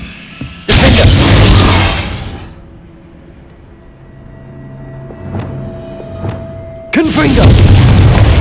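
A Confringo spell explodes in Hogwarts Legacy on Xbox Series S, with two loud, heavy booms several seconds apart. Between them the low rumble dies away into a quieter stretch with faint clicks.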